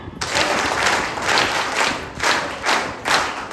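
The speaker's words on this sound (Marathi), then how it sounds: "तर जोरदार टाळ्यांनी त्यांचं स्वागत करायचं आहे." An audience at a Vaishya community charitable trust gathering claps in a rhythmic one-two-three pattern to welcome a jury member, strong repeated bursts of applause close by.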